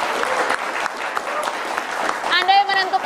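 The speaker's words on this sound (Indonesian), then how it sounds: "Kita berikan tepuk tangan untuk mahasiswa kita yang sudah berpartisipasi hari ini." Studio audience applause at an Indonesian televised vice-presidential debate program greets participating university students, steady clapping that gives way near the end to a voice and brief musical tones.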